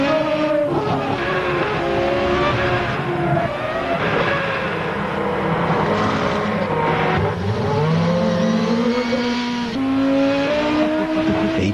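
A BMW Williams Formula One race car roars at close range with rising and falling engine pitch, high revving tones sweeping across steady dense mechanical noise throughout.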